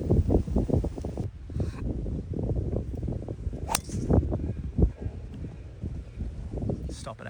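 Strong gusty wind buffets the microphone at Eynesbury Golf Club on a sunny day, a low rumbling roar running under people talking.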